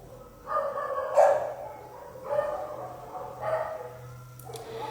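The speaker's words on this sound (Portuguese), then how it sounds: "Os cachorros latindo aqui." Dogs bark repeatedly at moderate distance, several separate barking bursts spaced about a second apart over a faint steady background hum.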